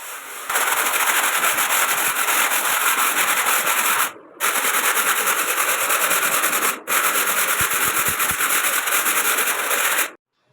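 Old blade pressed hard against a plaster wall, scraping it clean before putty goes on, producing loud, close, continuous gritty rasping in long strokes with two brief breaks.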